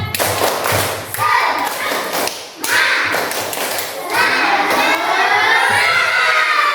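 Schoolchildren in an Islamic religious studies classroom perform the tepuk semangat spirit chant, with rhythmic group clapping and thumps mixed with loud shouted voices in bursts, close and crowded.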